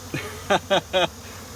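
Three short buzzing bursts of bees flying close by around a feeder, a faint hum in between, with no talking.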